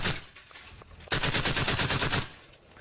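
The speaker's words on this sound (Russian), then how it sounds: "все еще слышны выстрелы" A rapid burst of automatic gunfire in Syria, a steady rattle of shots lasting about a second, preceded by scattered distant pops.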